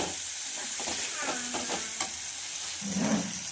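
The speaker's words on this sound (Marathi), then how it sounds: "छानपैकी असं वाटण परतून झालेलं आहे" Ground masala paste sautés in a pan for urad dal, a soft sizzle broken by several scraping spoon strokes in bursts, then a brief louder stir near the end, nearby and without speech.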